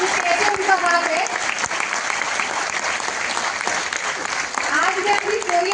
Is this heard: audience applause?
yes